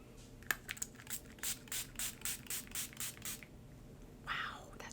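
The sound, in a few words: spraying Profusion Cosmetics Halloween setting spray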